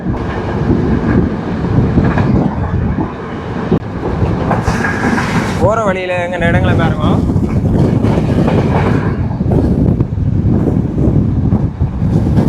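A Yal Devi passenger train runs at speed in Sri Lanka, with a steady rolling rumble and a brief high squeal midway, while a person talks over it throughout.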